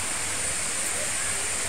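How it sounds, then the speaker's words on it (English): A waterfall gives off a steady, even rushing hiss that stays constant throughout, with no voices over it. "you can see the waterfall is out there"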